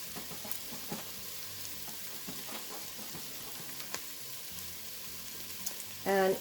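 Flour cooking into a soup base in a pot for creamy cheddar broccoli and potato soup, a soft continuous sizzle with scattered spatter and stirring clicks. A brief voice cuts in near the end.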